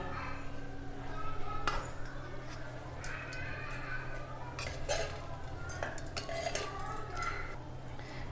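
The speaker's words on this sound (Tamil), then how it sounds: "இப்போ நம்ம இதை தேங்காய் போட்டு கிண்டிடலாம்." A spoon clinks and scrapes against a pot while grated coconut is stirred into cooked home rice for coconut rice, with irregular metallic taps and a soft murmur of background sound.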